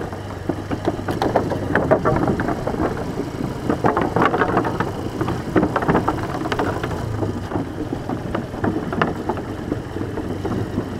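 A motorcycle rides in second gear through Vietnam between Nha Trang and Hoi An, its engine a steady low drone under constant wind rumble and road noise, fairly loud, with no talk.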